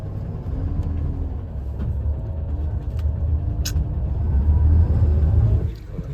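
A bus rolls along the road toward Mount Fuji with a loud, steady low engine rumble and road noise from inside the cabin, swelling slightly before easing, plus a few faint clicks.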